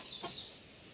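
Chickens clucking briefly at close range while being fed in a backyard coop, a short bright burst of hen calls with no talking.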